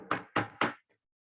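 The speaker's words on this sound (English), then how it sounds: "There was a knock at the door." Three sharp knocks on a door in quick, even succession, close and distinct, then silence.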